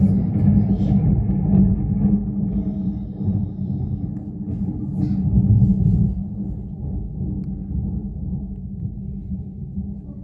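Thunder rumbles as a sustained, loud low roll that swells and fades over several seconds, with no clear sharp crack.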